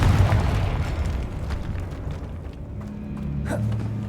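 A Confringo fire spell in Hogwarts Legacy detonates with a loud, rumbling blast that rolls on as a sustained low roar, with a brief crackling burst near the end and no talking.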